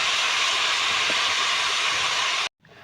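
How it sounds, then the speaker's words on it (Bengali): Bottle gourd stems frying in hot oil give a loud, steady broadband sizzle that holds unbroken for about two and a half seconds, then cuts off sharply before a softer hiss returns. "এটাকে তেলে দিয়ে এটাকে আগে ভাজ ভেজে নেবে তেলে"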